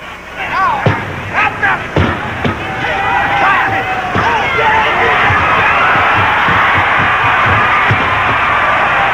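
A packed amphitheatre crowd at a 1950 Chicago wrestling match roars in a steady, dense din, with sharp thuds and whistles cutting through and someone talking over it early on.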